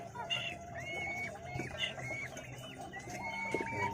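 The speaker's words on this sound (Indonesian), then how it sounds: "Itu ayam ya" Chickens cluck repeatedly in a village setting, their calls fairly close and steady over a low background murmur with no speech.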